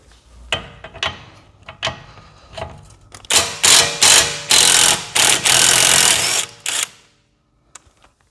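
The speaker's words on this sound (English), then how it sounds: "I'm gonna use an electric impact, try to go ahead and get the top loose because it is easy to get to." Electric impact wrench loosening the top nut of a Ford sway bar end link, heard first as scattered clicks and handling noises, then as several loud bursts of hammering in quick succession before it stops.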